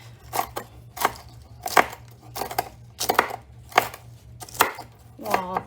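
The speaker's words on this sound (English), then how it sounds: "I just like to chop mine up so that we can get some bacon bits." Crispy bacon gets chopped into bits on a cutting board, making about nine evenly spaced, crisp knife thuds close up, with a faint steady hum underneath.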